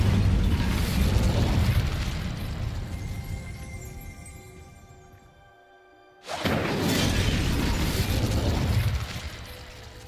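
In the game Hogwarts Legacy, an Incendio fire spell is cast. It bursts into a loud whooshing blaze that fades with ringing tones, cuts to near silence, then erupts again into a second strong roaring burst.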